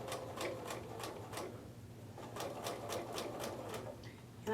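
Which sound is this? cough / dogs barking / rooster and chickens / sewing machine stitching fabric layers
sewing machine stitching fabric layers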